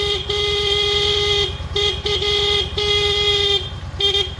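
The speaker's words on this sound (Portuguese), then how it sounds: "Essa buzina" A Yamaha Midnight Star XVS 950 motorcycle horn, hoarse from age and oxidation, is blown several times in short and longer honks, loud and close, each a rough buzzing tone over an idling engine.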